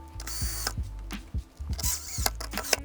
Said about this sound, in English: Once you got all the screws in place, tighten them all down.